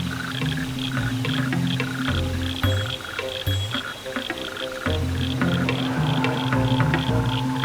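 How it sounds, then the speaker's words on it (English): Rocket frogs call in an Australian forest, a chorus of repeated short croaks and clicks layered over a steady background of other frog voices, with no talk. "the rocket frog has maintained its place in this forest home"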